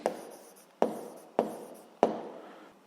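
Four crisp, evenly spaced strokes of writing on a board, each a sharp scrape that fades quickly, heard close and alone in a quiet room.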